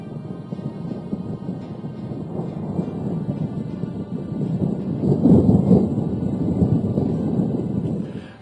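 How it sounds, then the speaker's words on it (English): Thunder rolls in a long, steady low rumble that swells slightly midway and holds, with a faint hiss like rain beneath it. "the traveler looks at the lightning and listens to the thunder"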